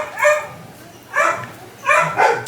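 Dogs barking in three or four separate bursts, fairly close and loud, with short gaps of quiet between them.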